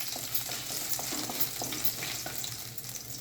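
Cumin seeds and finely chopped garlic fry in hot oil while being stirred, a quiet, steady sizzle with faint intermittent ticks and scrapes from the stirring utensil.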